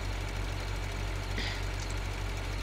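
A tractor engine runs in the video game Farming Simulator 2013, a steady low idling drone with a faint rattle that stays even throughout, with no talk over it.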